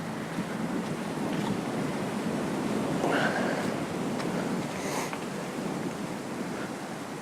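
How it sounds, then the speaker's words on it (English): Wind gusting outdoors near water, a steady broad rushing roar buffeting the microphone throughout, with a few faint knocks and brief higher sounds mixed in. "Now the wind's coming through here pretty good."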